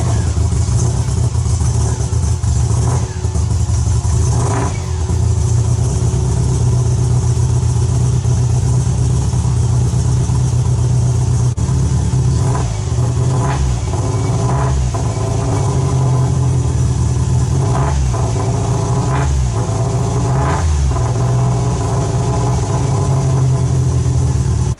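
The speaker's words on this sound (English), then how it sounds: "You can hear all the new parts warming up." A project car's engine idles steadily while warming up, with a fresh cooling system and water overflowing onto the exhaust; a loud, continuous low rumble with a few short revs partway through.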